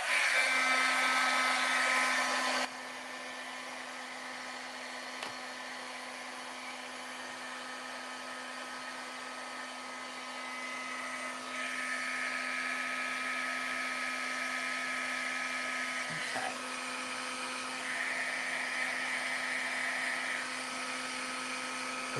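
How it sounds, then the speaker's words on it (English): A heat gun runs continuously with a steady whining hum that shifts slightly in pitch as it warms up, close by, with no one talking. "we'll get my heat gun warmed up"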